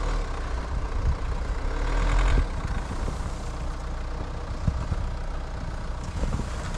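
A diesel Jeep Compass 4x4 automatic on Pirelli all-terrain tyres idles with a low, steady engine rumble on snow and black ice, under a faint broadband wash. No voices are heard.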